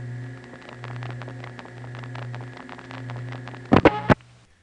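PCI DC signaling on a trunk from a crossbar tandem in a 1974 Queens telephone exchange: several seconds of steady hum and faint ticking, then three loud, sharp clicks close together near the end.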